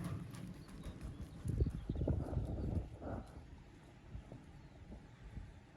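Horse hooves thud irregularly on soft ground during canter training with a young horse at a stable, close but muffled, rising and falling amid wind noise.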